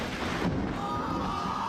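Thunder rolls through a thunderstorm with rain, a low sustained rumble under steady rain noise, fairly close and continuous, with no voices.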